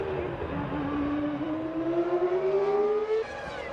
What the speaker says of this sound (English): Schumacher's exiting the pit lane as Fisichella races down the straight